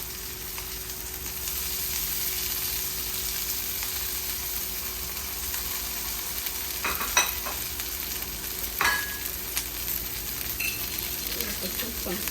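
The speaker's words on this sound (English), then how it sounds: "And in the olive oil, I'm going to add the green onion and some cilantro." Green onion and cilantro sautéing in olive oil, a steady moderate sizzle with occasional clinks and scrapes of a utensil against the pan, and a faint hum beneath.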